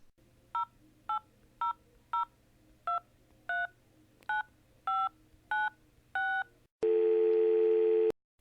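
A telephone number is dialed with DTMF tones, eleven crisp evenly spaced beeps over a faint steady hum, followed by a loud continuous tone.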